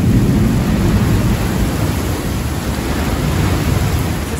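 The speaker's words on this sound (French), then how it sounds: "c'est un orage qui était interminable" A loud, continuous rumble of a thunderstorm at sea near New York, like heavy rain and rolling thunder, fills the scene without letup.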